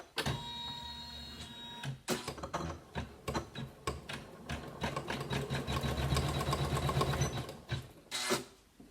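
A computerized sewing machine stitching a split letter W appliqué, a loud fast mechanical whir with rhythmic needle clatter, pausing briefly between runs before resuming.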